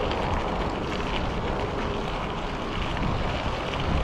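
Strong wind buffets the microphone in a steady broadband roar, loud and continuous throughout, with no voices.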